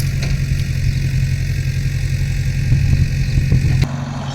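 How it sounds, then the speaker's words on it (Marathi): A tractor hauling soil to a farm field idles steadily with a low chugging rumble, close by and constant, then drops off abruptly near the end. "हा ट्रॅक्टर आहे ना हा तिकडे शेतात माती घेऊन चाललाय"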